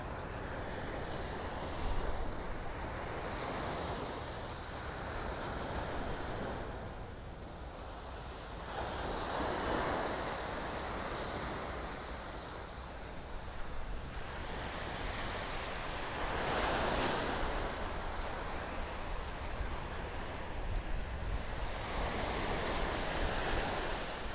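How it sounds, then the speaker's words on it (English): Ocean surf rolls onto a beach in North Naples, Florida, under an overcast sky. Waves break and wash in repeated swells, with steady wind rumble underneath and no one talking. "Still nice being at the beach, though."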